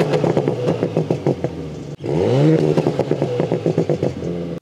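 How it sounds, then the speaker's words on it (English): A Stage 1 tuned car running E85 revs with rapid crackling pops and bangs from the exhaust in dynamic mode, a loud rising rev in the middle, close and continuous. "Switch back to dynamic, and the pops and bangs return."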